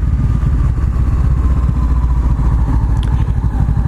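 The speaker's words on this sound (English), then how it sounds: "pull on the clutch, push down on the gear shifter, and blip the throttle all at the same time" A Honda CBR500R motorcycle engine runs during a downshift, a loud, steady close-up drone with low, rumbling pulses and no distinct rev spikes.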